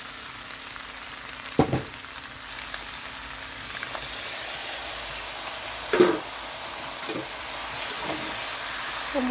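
Ground spice paste goes into young jackfruit frying in a pan for a cashew-paste prawn dish, giving a steady close hissing sizzle broken by a few soft knocks and clinks of a utensil.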